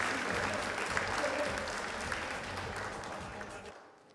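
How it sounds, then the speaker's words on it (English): An indoor congregation at a thanksgiving service for a life applauds: steady, dense clapping from many hands that holds for several seconds and then cuts off abruptly. "round of applause for everyone who's doing excellent"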